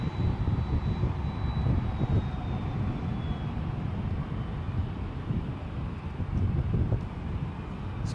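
A jet airliner departs Edinburgh airport with a Ryanair jet lined up behind, a continuous low engine rumble mixed with wind buffeting on the microphone and no voices.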